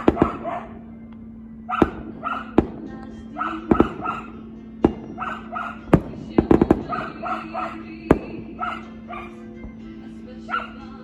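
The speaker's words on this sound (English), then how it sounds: "I've never been cooking bacon and watching fireworks at the same time before." Sharp firework bangs pop at irregular intervals while a nearby dog barks and yelps repeatedly, the barking louder than the distant blasts.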